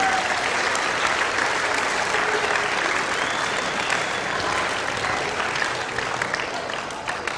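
Loud, sustained applause from a school audience of students in a gym or assembly hall after a presentation, dense clapping throughout with faint crowd murmur beneath.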